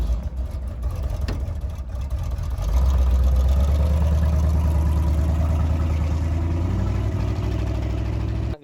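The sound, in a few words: Big Block Chevy engine running rough in a GMC truck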